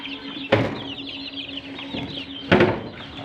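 Rhode Island Red and other chickens, about a month old and kept for sale, cluck softly nearby, with two sharp louder bursts of clucking and a constant low hum underneath.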